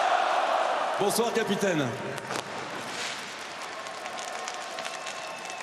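A stadium crowd applauds the captain of Paris Saint-Germain, the newly crowned European champions, at the Parc des Princes. The dense, distant clapping and cheering runs throughout beneath a voice amplified over the public address system.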